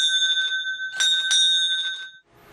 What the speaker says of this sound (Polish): Tą nagrodą jest specjalny dzwon, który wydaje specyficzny i wybitny dźwięk.